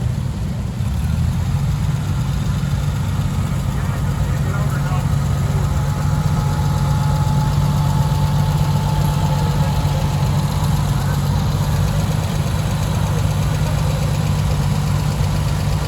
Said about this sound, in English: a Oliver 1850 diesel.